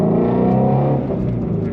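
A 2020 Shelby GT350R's V8 engine revving hard on throttle, a loud, close, sustained roar that stays dense and steady throughout the brief moment, with no talking over it.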